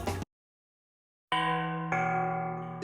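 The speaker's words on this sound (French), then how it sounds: "La cloche a sonné." Two clear bell strikes, a short burst, a silence, then a metallic clang whose tonal ring sustains and is struck again, leaving a bright, sustained ringing tone with no talking.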